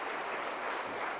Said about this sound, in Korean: 자리에서 일어나시면 우리 뜨거운 박수로 환영하겠습니다